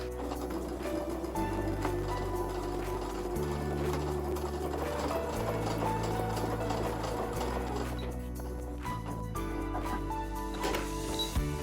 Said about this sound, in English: I'm gonna use my sewing machine to sew mine out